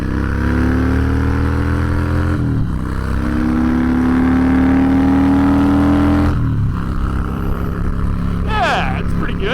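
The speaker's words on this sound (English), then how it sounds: "It accelerates just how you'd expect it to." Harley-Davidson Breakout motorcycle with a Twin Cam engine accelerating hard, its loud, close exhaust rising steadily in pitch through the gears, with a brief drop in revs at each shift.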